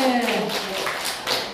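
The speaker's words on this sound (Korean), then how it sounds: "와, 박수 한번 보내주세요." An audience at a new-employee business etiquette training claps for a correct answer, a short burst of scattered hand claps that starts under a speaking voice and carries on alone.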